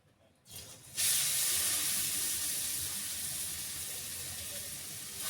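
Carrots hit hot ghee seasoned with cardamom and bay leaves, a sudden loud sizzle that bursts in after a brief quiet rustle and holds as a steady, slowly easing frying hiss.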